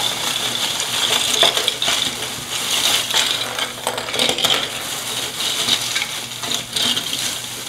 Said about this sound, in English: let me just dump this out, because I feel like I'm probably annoying you with all the sound